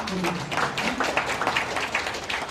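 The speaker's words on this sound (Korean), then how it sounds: "자, 우리 박수 보내주십시오." A lecture audience applauds steadily, a dense wash of clapping that fills the room, with a voice audible briefly at the start.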